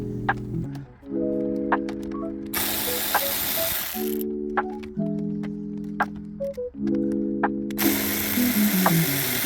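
A hand ratchet clicks in quick repeated bursts while backing out screws from the vent cover of a Mini Cooper Coupe R58, close and loud, with short pauses between runs and a brief scrape or two.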